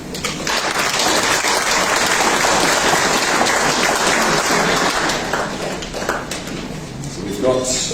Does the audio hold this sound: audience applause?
yes